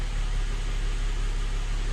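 A rebuilt Mercedes engine idles just after a cold start, a steady low droning hum with an even, constant tone and no variation in speed.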